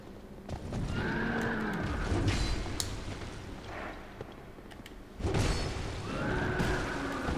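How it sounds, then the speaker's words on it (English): A horse in the video game Dark Souls 2 neighs loudly with a rising whinny, joined by heavy thudding hooves and booming impacts in a dense, battle-like game soundscape. "Horse."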